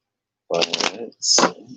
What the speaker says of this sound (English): that was an interesting shuffle